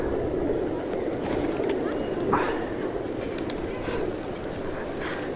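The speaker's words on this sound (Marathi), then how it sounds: "सगळीकडे कबूतर, जिकडे बघेल तिकडे तुम्हाला कबूतरच दिसते." Pigeons coo around Pashupatinath Temple in Kathmandu, a soft continuous murmur of many birds mixed with steady outdoor crowd and ambient noise, with faint chirps here and there.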